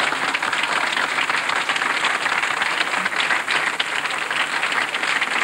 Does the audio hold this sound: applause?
yes